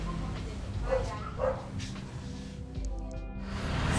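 A few scattered dog barks and yips ring out in Chiang Mai, Thailand, set against a low continuous background rumble, fairly faint and spaced apart.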